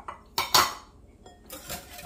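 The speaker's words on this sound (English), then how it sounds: "Then you whisk in your milk." Milk being whisked into jello pudding mix in a bowl: a whisk gives a couple of loud clattering strokes against the bowl, then a brief rattling swirl, close up, with no talk.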